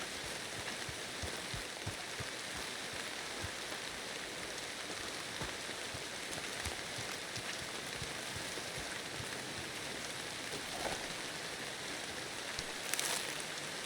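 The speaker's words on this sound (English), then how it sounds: "The sound design of the rain and of the ambient design sounds." Steady rain patters on surfaces in Red Dead Redemption 2, a dense, even hiss of droplets and puddle splashes continuing throughout with no talk.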